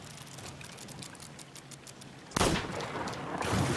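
Firebombs launched in the pirate game Sea of Thieves during a ship battle, a sudden loud burst of crackling blasts about two-thirds through, following quieter ambient noise with faint repeated knocks.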